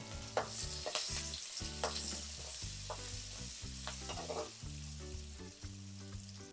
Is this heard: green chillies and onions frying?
yes